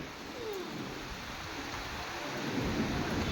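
An afternoon thunderstorm with steady rain pouring down, while low thunder rumbles and rolls through, swelling louder toward the end.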